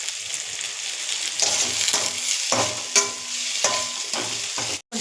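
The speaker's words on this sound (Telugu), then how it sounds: "మిర్చి వేయాలి, ఉల్లిపాయలు, కొంచెం ఇది ఫ్రై చేయాలి" Onions frying in hot oil with mustard seeds, urad dal, green chillies and salt for a brinjal and potato curry: a loud, continuous sizzle broken by several sharp spatula scrapes and stirs, ending in a brief cut.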